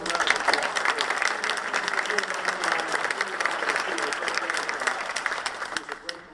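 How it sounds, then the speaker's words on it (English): Audience applause fills an awards banquet for agriculture excellence, a loud, steady clapping from a crowd lasting several seconds before tapering slightly at the end. "Give them a round of applause."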